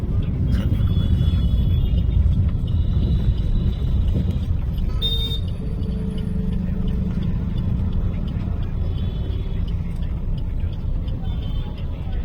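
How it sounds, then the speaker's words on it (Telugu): A cab drives through heavy Delhi traffic on the way to Old Delhi Railway Station, with a constant low engine and road rumble inside the car, faint distant horns, and a brief beep partway through. "ట్రాఫిక్ ఎక్కువ ఉంది."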